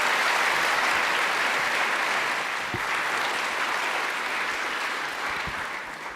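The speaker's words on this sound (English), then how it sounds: "Big round of applause, please, Radomir." Steady, dense audience applause fills an indoor hall after a short Python lightning talk, loud and sustained before tapering slightly at the end, with no speech over it.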